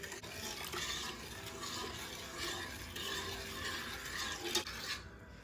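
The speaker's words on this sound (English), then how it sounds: "Give it a quick stir." A spoon scrapes and swirls through sugar and water in a saucepan on the stove, a quiet, continuous gritty stirring with light clinks against the pan.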